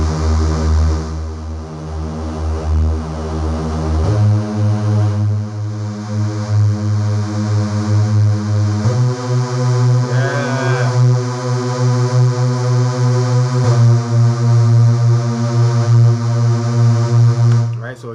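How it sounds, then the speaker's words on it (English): Layered synth leads from a music production session, a second lead stacked beneath the first in a pre-hook: loud, sustained buzzy tones stepping between held chords, with a brief wavering swell midway, no voices. "we added another synth lead right underneath that first"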